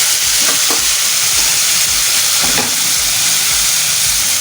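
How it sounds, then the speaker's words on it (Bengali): Chicken pieces fry in a pan as they are flipped, a close, continuous sizzle with a few bursts of crackling and scraping. "এবার চিকেনটাকে উল্টে দেবো।"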